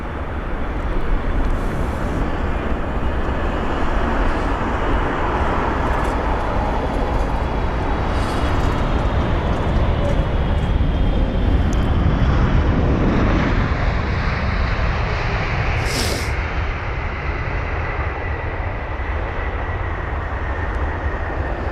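A jet airliner arriving at London Heathrow airport gives a loud, continuous broadband roar that holds steady throughout and eases slightly toward the end.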